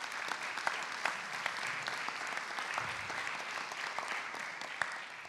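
Steady audience applause fills a conference hall during an economic policy forum, dense and sustained clapping from a large crowd throughout, with a few louder individual claps standing out near the front.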